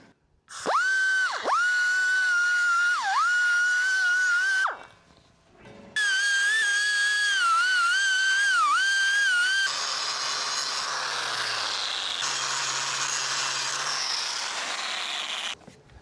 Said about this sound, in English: I'll grind this paint off, and as well as around here a little bit to just make sure I have as good a weld as possible